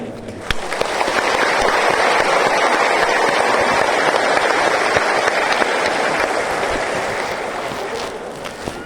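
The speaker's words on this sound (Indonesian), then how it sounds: "Saya pikir kita berikan aplaus." A church congregation at Pentecost Sunday Mass in Pontianak breaks into loud, sustained applause. The dense clapping swells and holds for several seconds before tapering slightly at the end.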